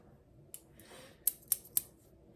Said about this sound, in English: a clipper, a trimmer, a clipper over comb, right here. Texture shears for sure.